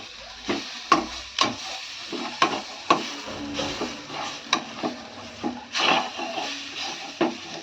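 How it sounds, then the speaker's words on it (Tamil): Roasted brinjal curry ingredients stirred on a hot pan, sharp repeated knocks and scrapes of a spoon against the metal over a low sizzle, irregular strokes close up. "சூட்லேயும் ஒரு 2 நிமிஷம் அப்படியே வச்சு கிண்டி விட்டுக்கணும்"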